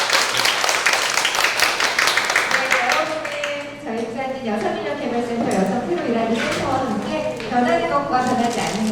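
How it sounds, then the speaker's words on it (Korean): Applause from the audience at a Korean lecture event, loud at first, then fading into talk and bustle as a voice speaks over the thinning claps. "큰 박수 부탁드립니다"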